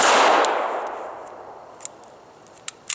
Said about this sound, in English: as I'm coming out, I fire a shot